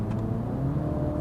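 Steady mid-range engine drone from a 2015 MINI John Cooper Works Hardtop as it drops from fourth to third gear via the steering-wheel paddle shifters, heard from inside the cabin at an even, close level.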